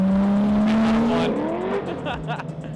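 Drift cars rip around a race track, engines revving loud and close with a rising whine, then tires squealing and skidding as the cars slide past.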